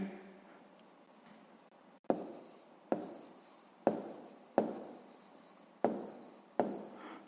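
A math answer being written by hand on paper in a sixth-grade exercise, six or seven distinct scratchy pen strokes in quick succession after a quiet start, close and clear with no talking.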